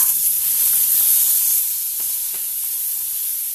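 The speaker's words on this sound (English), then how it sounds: "And now I'm gonna add green peas." Frozen green peas hit a hot pan with spices, setting off a bright, loud sizzle that hisses steadily and eases slightly after the first second and a half, with a few faint knocks beneath.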